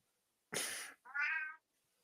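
A cat gives two separate meows at close range, the first a broad, noisy cry and the second a shorter, more tonal call, with silence before and after.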